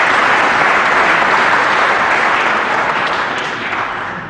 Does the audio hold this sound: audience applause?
yes